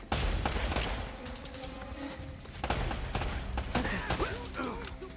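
Gunfire in Uncharted: Drake's Fortune, a run of sharp shots popping over a busy combat mix with game noise and some voices underneath.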